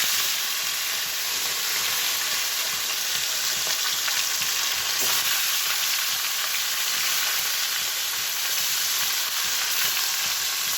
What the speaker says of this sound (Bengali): ভেজে নিই মাছগুলো ভালো করে।